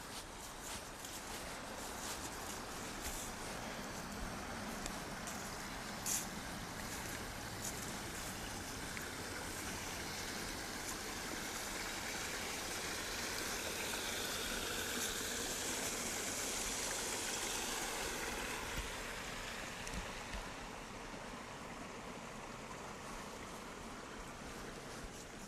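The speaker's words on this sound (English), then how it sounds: "Here's another spring here where the water comes right out of the ground." Spring water flows straight out of the ground outdoors in Wisconsin in November, a steady, soft rushing and trickling wash that swells slightly midway, with faint footsteps and no talking.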